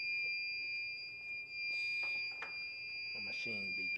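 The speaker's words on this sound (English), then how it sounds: "my machine beeping" A steady high electronic beep tone drones continuously from a machine, with a person talking faintly underneath.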